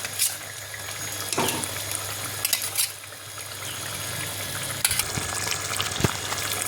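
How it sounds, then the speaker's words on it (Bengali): Katla fish pieces go into a simmering potato curry, giving a steady bubbling hiss with a few sharper splashes and clinks as the pieces drop in, close and continuous, with no talking. "এবার এর মধ্যে আমি মাছগুলো এক এক করে দিয়ে দেবো"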